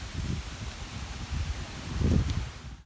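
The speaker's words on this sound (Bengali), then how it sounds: "ভীষণ হাওয়া চলছে" Strong morning wind rushes through leaves on a village road, a steady near rustling roar that swells into louder gusts, with no voices.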